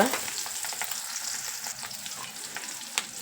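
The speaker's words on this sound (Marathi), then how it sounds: "हे टमाटं चांगलं परतून घेतोय आपण" Tomatoes sautéing in oil with asafoetida and coriander in a pan, a close continuous crackling sizzle with faint stirring scrapes and one sharp tap near the end.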